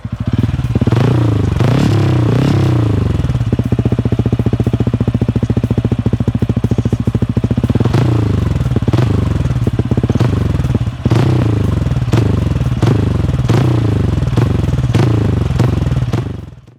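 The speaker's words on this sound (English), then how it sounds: "let's hear the beautiful thump of this 226cc engine" A TVS Ronin 225 motorcycle's 226cc engine idles with a deep, loping thump, then blips through several sharp revs, loud and close throughout, with no talking.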